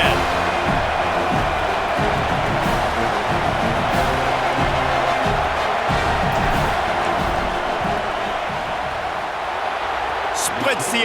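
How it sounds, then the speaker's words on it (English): Stadium crowd in a college football video game (Washington vs USC) roaring steadily as a field goal unit lines up, a dense sustained wash of cheering and noise with a commentator talking over it. "This crowd trying to do its part to get inside the kicker's head."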